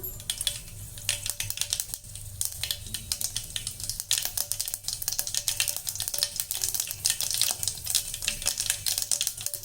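Dense, crackling sizzle of half a teaspoon of mustard seeds popping in hot oil, a steady rapid spattering that continues throughout, close and fairly loud.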